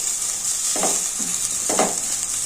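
Ginger sizzling as it fries in ghee for pongal, a steady hiss with two short bursts of stirring or scraping, close and fairly loud, no voices.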